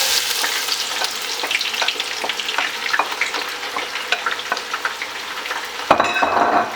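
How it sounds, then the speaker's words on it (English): Onion drops into hot oil and fries with a bright, steady sizzle, crackling loudly up close while a utensil stirs and scrapes against the pot. "So now the oil is hot enough, so I'm gonna put my onion in."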